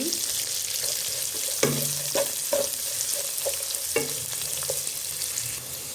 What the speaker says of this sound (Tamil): வெங்காயத்தையும் சேர்த்துக்கொள்வோம் சேர்த்து அதையும் வதக்கி கொள்ளுவோம் லோ ஃப்ளேமில் இருக்கட்டும்